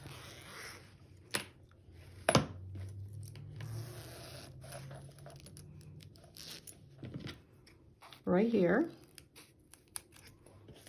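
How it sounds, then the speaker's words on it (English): Scissors snip through zipper tape in a few sharp, close cuts, with a louder crunching snip near the end and a brief spoken remark in between. "I'll cut them apart. So we'll cut this one off."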